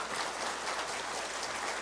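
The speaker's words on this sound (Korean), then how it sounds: "나오실 때 박수로 맞아 주시기 바랍니다" Audience applause greets someone arriving at an evening church revival service, a steady, even wash of many hands clapping throughout, moderately distant with no talk.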